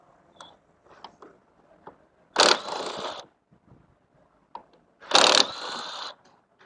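A wrench spins out the two 12 mm caliper bolts on an electric scooter's brake, whose guide pin is rusted. Two loud, close buzzing bursts of under a second each are separated by soft clicks and handling noises.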